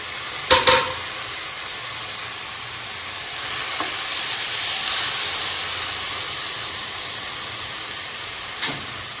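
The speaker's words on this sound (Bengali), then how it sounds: "এবার আমি এর মধ্যে এই যে ম্যারিনেট করে রাখা মাছটা পুরোটাই দিয়ে দেবো" Steady, loud sizzling of marinated small mourala fish frying in hot oil, with a couple of brief clanks near the start and end.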